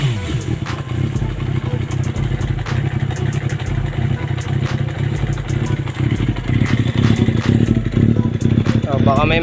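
A Suzuki Bandit 400 motorcycle engine idling during repairs, a steady close mechanical rumble with rapid ticking clatter throughout, loud and continuous with a person talking over it.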